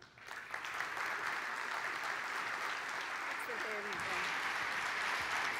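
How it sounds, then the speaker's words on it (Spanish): A conference audience breaks into sustained applause for a speaker, the clapping swelling after a brief quiet start into a thick steady roar, with a faint voice briefly audible beneath it. "Un fuerte aplauso para Johan"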